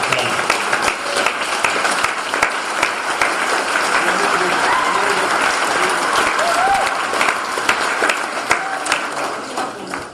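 An audience at a ball breaks into sustained applause, dense clapping with a few sharper claps standing out, continuing without a break.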